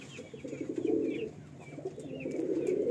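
A Madrasi pigeon cooing softly while held in the hand, repeated low throaty coo phrases in two bursts, close and gentle, with faint bird chirps in the background.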